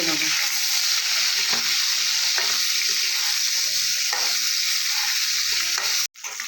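Potatoes seasoned with salt and turmeric fry in a pan with a steady, loud sizzle and occasional stirring scrapes, cutting out abruptly near the end.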